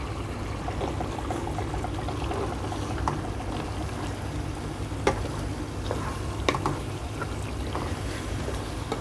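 Beef being sautéed in mustard oil with a small potato in a pot for Hyderabadi biryani gives a steady, low, dense frying hiss, with occasional sharp scrapes and clinks of stirring.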